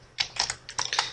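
Fingers tap quickly on a computer keyboard in a close, crisp burst of about eight keystrokes, with no talking.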